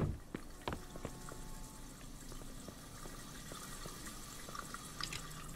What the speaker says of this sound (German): Genug Wasser verschwendet.